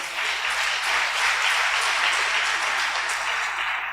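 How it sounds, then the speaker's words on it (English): An audience at a matric results ceremony for inmates claps for the achievers: loud, dense applause, even and sustained for several seconds, with no speech over it. "Let's give a big round of applause for all the achievers."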